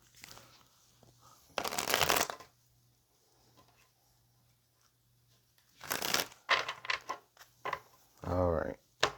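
Tarot cards are shuffled in brisk, papery riffling bursts, two main rounds separated by quiet, close and moderately loud, with a voice briefly speaking near the end.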